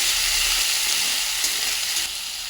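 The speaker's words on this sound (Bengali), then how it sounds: "পেঁয়াজটাকে একটু ভেজে নেব" Chopped onion with green chili and a little salt frying in hot oil, a steady close sizzle with bright crackle throughout, loud and continuous with no voices.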